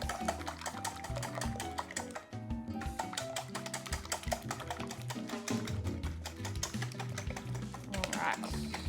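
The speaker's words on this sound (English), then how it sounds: "We're going to whisk our eggs." Six medium eggs being whisked in a bowl, a fast, busy clicking and tapping of the whisk against the bowl that continues steadily at close range, with what seems to be a voice speaking faintly underneath.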